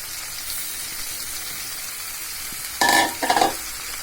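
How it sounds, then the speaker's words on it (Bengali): Spice-marinated beef tripe goes into a pan of oil with fried onion, garlic, ginger and dried chilli, producing a steady soft sizzle that bursts into a louder, crackling spit near the end. "এই যে মশলা মেখে রাখা বটগুলো এবার দিয়ে দিচ্ছি"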